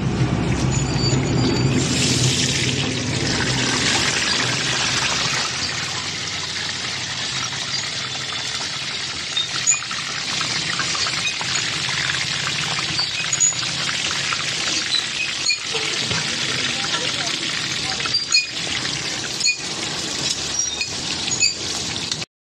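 Pumpkin pieces go into a hot cooking pan and set off a steady, loud sizzle and hiss of frying that carries on evenly for about twenty seconds, with no voices.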